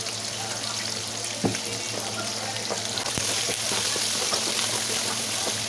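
Garlic sautéing in a small amount of hot cooking oil, giving a steady close sizzle with sharp pops and spatters throughout, and a stronger crackle toward the end.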